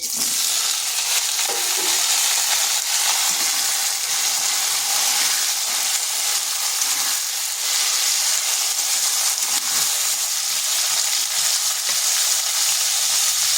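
Kohlrabi and potato pieces fry in hot oil tempered with whole cumin, a dried red chilli and bay leaf. The sizzle is a loud, continuous hiss that carries on evenly from start to finish, with no voices.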